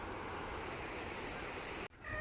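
Powerful river water rushes past Sharda dam on the India–Nepal border as a steady, dense roar close by, broken near the end by a brief dropout.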